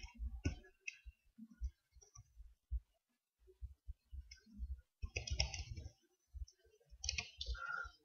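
Computer keyboard typing as an IP address is entered, scattered quiet key clicks in short bursts with pauses, close and alone.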